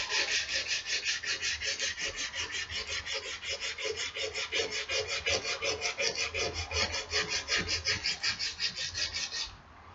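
Sandpaper rubbed over an axe blade in fast, even back-and-forth strokes, a loud rasping rhythm close up that carries on steadily before stopping at the end.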